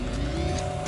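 An electric car in The Grand Tour video game launches from standstill with a steady, loud whine and rushing road noise, brief and without talk.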